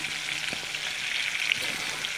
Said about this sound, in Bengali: আজকে এখানে মাছ ভাজা করছি।